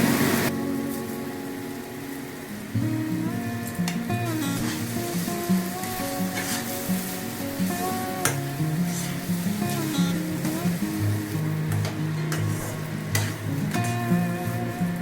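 Drained rice stirred into a pan of well-fried spice masala with chilli powder while making fish-head muri ghonto, a steady close scraping and sizzle with sustained musical tones in the background throughout.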